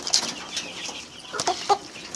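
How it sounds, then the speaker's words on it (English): Young grower-stage chicken of a local breed on a poultry farm, clucking in a few short, soft calls with brief rustling between them, fairly close. "there's actually like a small chicken that I got"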